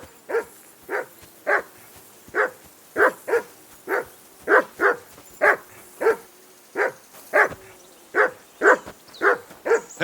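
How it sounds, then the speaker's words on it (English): A dog named Mutt barks repeatedly in Kingdom Come Deliverance 2, a steady run of sharp, fairly close barks at roughly half-second spacing, with no talk over them. "Call off that mutt of yours!"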